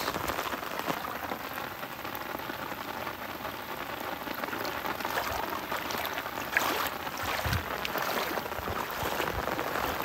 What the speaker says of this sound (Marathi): आपल्याकडे पाऊस भाई खतरनाक पाऊस झाला आहे.